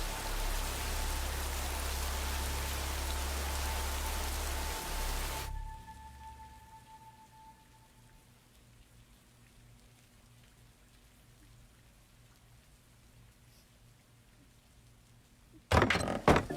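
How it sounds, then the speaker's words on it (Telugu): Steady rain hisses loudly and evenly for about five seconds, then cuts off abruptly, leaving near silence with a faint low hum and a short clatter at the very end. "వానేమో దూరంగా పడుతుంది."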